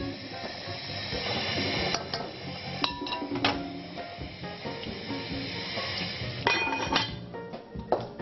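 Rinsed, drained red beans tipped into a cooking dish for beef burritos, with scattered clinks of utensil on dish and a soft hiss of cooking in the background, no talking.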